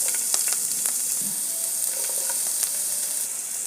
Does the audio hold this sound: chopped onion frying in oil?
yes